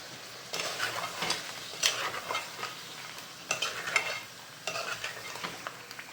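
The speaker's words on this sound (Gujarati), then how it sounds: "પાછો એને મિક્સ કરી લેવાનો" A spoon stirs millet flour into a mixed vegetable curry in a hot pan, a near, steady sizzle punctuated by irregular scraping strokes and soft knocks against the metal.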